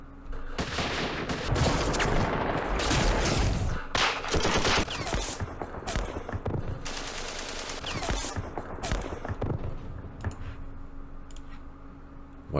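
Sustained battlefield gunfire against anti-aircraft guns in the Campaign Series Middle East strategy game, Battle of Port Said, with dense bursts of automatic fire and repeated shots continuing loudly throughout.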